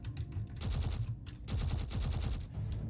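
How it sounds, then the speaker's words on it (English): Turrets firing in Space Engineers: dense rapid-fire gun bursts in two long volleys separated by a short gap, loud and close, with no speech. "So I can fire all my turrets here."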